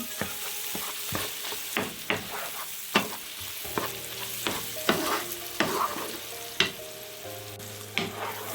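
Sliced sausage frying in a pan with egg while a utensil stirs it, giving a steady hiss of sizzling oil broken by repeated sharp scrapes and clacks against the pan, close and loud with no talk.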